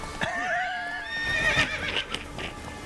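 Horse neighing in the video game The Witcher 3: Wild Hunt, a loud, wavering whinny with hoofbeats and game combat noise close by, no talk over it.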